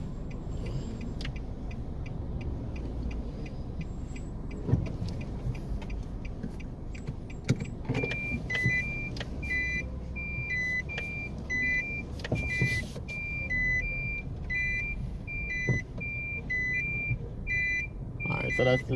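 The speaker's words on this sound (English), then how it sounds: "let's see if we can reverse in this section" A car reverses at a tire shop with a repeated high reversing beep that starts midway and pulses steadily over engine rumble and traffic noise, and a voice talks throughout.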